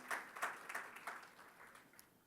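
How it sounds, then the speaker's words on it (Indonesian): A church congregation applauds the praise and worship team during a service, producing a soft, scattered burst of clapping that fades over about two seconds. "Boleh tepuk tangannya di-extend buat tim praise and worship kita."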